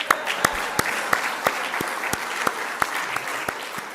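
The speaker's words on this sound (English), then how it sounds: "I think you deserve a round of applause" Steady round of audience applause at a Saturday morning gathering, many hands clapping densely with a few sharp nearby claps standing out, sustained throughout at moderate level.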